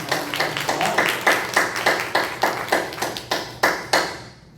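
A church congregation at a Sunday praise service claps in a steady, rhythmic beat, many hands striking together in sharp, evenly spaced bursts that continue for several seconds before stopping.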